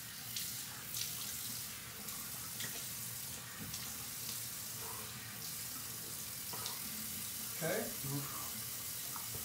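A bathroom tap runs cold water into a sink for rinsing after a straight-razor shave, a steady close hiss and splash throughout with a few small splashy bursts and a brief spoken word.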